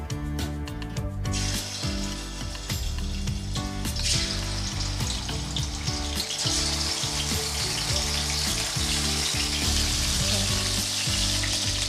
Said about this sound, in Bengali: তেল গরম হয়ে গেছে, এবার আমি মাছগুলো দিয়ে ভেজে নেব।